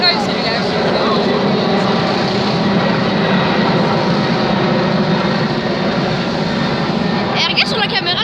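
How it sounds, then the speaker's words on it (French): A loud, sustained roar of a large propeller or jet military aircraft taking off nearby, steady and droning throughout, with voices talking underneath. "Il décolle celui-là."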